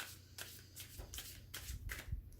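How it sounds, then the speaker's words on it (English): A deck of tarot cards is shuffled by hand close up, several quick riffling bursts in a row with soft slaps between them, quiet and with no talking. "And another shuffle."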